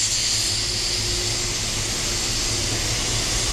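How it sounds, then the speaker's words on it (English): Motivated Painter's air blower drying wet paint on a Tesla hood, a steady loud rushing hiss of air held at close range without a break, no talking. "We're gonna get the blower."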